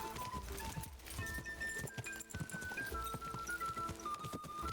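Horse hooves clip-clopping at a quick pace in the game Kingdom Come: Deliverance II, a steady close rhythm of hoof beats over a constant background tone.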